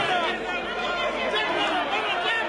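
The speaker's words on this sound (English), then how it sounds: "The crowd cheering him on." Crowd noise at a Fiji boxing bout, a steady dense wash of voices and cheering that holds at one level throughout, with no clear peaks or single shouts standing out.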